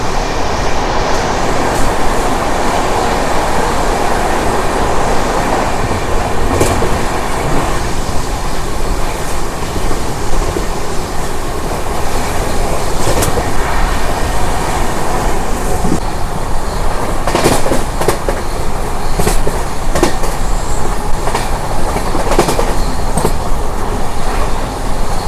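The Charminar SF Express between Chennai Beach and Hyderabad, running past Singarayakonda, heard from inside as a loud, continuous rumble of wheels on rails with occasional rhythmic clacks and faint squeals.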